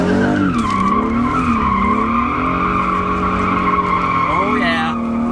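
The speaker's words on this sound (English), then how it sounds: "a good time to do those donuts I was talking about." Tires squeal loudly and continuously as a car with polyurethane subframe and differential bushings spins donuts, the engine droning underneath the long skidding screech.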